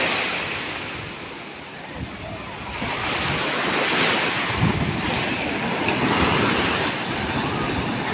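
Ocean waves rolling in at Kotha Koduru beach with wind buffeting the microphone, a steady loud wash of surf that swells and recedes in slow surges, with no voices.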